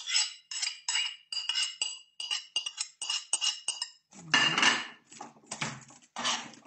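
Winter vegetables and marinated tofu are tossed on a baking tray, making a series of light clattering, scraping strokes in short bursts, followed by a few heavier, fuller scrapes, close by and with no one speaking.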